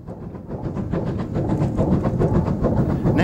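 Merchant Navy Class Pacific steam locomotive number 35023 Holland Africa Line opening up after a signal check, rhythmic exhaust beats quickening and growing louder as it accelerates.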